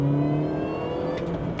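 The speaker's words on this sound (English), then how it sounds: "you can just hear the supercharger, you know, kicking in" A Mini hot hatch with a supercharger accelerates hard, its engine note climbing with a steady whine over the growl, heard close and loud from inside the car.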